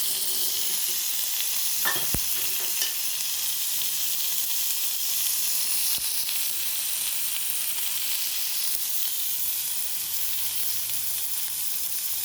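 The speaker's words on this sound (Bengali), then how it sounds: "একটু ভাজা হচ্ছে।" Food frying in a pan during home cooking, a steady close sizzle with bright hissing spread evenly across the whole stretch, broken early by a single sharp knock, with nobody speaking.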